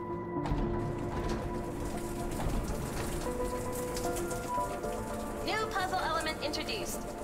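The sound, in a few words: rain falling in the video game The Entropy Centre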